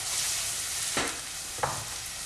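Onions sweating in a slug of olive oil in a pan for risotto give off a steady soft sizzle, broken by two brief scraping stirs of a spoon.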